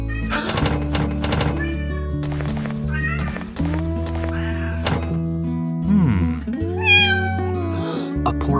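Cat meowing in the Roblox game Brookhaven, a few drawn-out meows over looping background music, with a soft thunk partway through.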